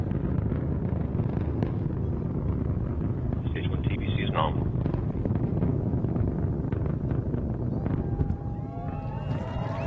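Antares rocket engines at full thrust during ascent on a cargo launch to the space station, a steady deep roar heard from a distance, with a launch commentator's voice over it.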